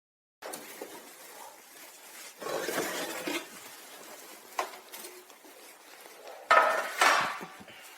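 Baked gingerbread cookies come out of a home oven with scattered metallic clatters and scrapes of a baking tray and pans, quiet between the knocks, with a couple of sharper clanks near the end.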